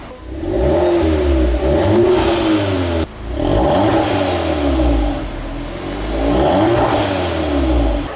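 A car engine fitted with a small aftermarket exhaust silencer revs repeatedly and loudly, rising and falling in three long sweeps with a brief cut between them, close by with no talk.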